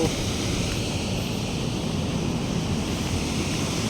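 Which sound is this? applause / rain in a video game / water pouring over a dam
water pouring over a dam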